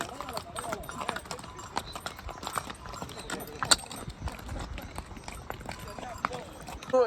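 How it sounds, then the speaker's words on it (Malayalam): Horse hooves clip-clop steadily at a trotting rhythm on a ride in snowy Gulmarg, Kashmir, close by, with people talking over them and some outdoor bustle. "ഞങ്ങൾ ഈ ഒരു കുതിര സവാരി എടുത്തിട്ടുള്ളത്"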